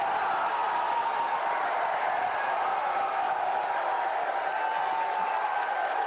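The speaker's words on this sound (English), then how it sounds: "Can you hear the cheering and all that?" A distant crowd cheers and roars steadily at a Starship launch during hot staging, a continuous wash of many voices held at an even level throughout.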